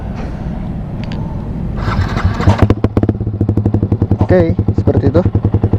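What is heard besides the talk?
Yamaha R15 V3 motorcycle idling with Vilan Pro1 exhaust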